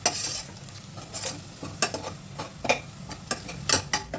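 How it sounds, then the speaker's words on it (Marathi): Two finely chopped onions fry in a pan until reddish, sizzling steadily up close while a spatula stirs them in quick, repeated scrapes and knocks. "कांदा थोडा लाल होईपर्यंत फ्राय करून घ्यायचा।"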